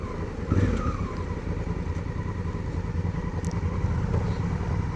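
Motorcycle engine running steadily on a gravel trail on an icy day across Salisbury Plain, a continuous rough low rumble with throttle surges, close and loud throughout.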